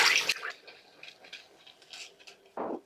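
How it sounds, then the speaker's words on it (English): A cup of water poured into a hot skillet that holds broth gives a short burst of splashing and sputtering, then scattered light drips and crackles, and a second splash near the end. "And I'm going to add a cup of water."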